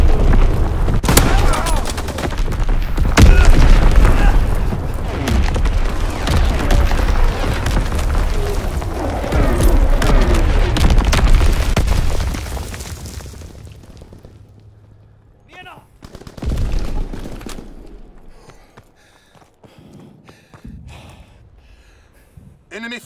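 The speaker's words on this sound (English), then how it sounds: "Incoming enemy artillery! Get to cover! Enemy bomb incoming!" Explosions from enemy artillery and bombs in Call of Duty WWII rumble in a dense barrage of booms and gunfire over about twelve seconds, then fade into scattered quieter blasts and voices.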